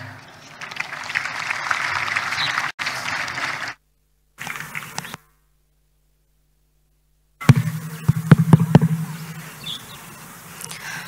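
A crowd at a graduation ceremony applauds in bursts of dense clapping, cut by abrupt silent gaps, with a few sharp louder claps near the end.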